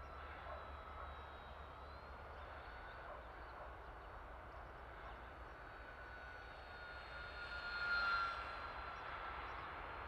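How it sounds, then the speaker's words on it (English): An RC plane powered by a T-Motor AT2306 KV2300 motor flies at about a third throttle on a calm day, giving a steady, thin electric motor whine at moderate distance that swells briefly as it passes closer. "No fuss motor. I can just fly around like this for ages."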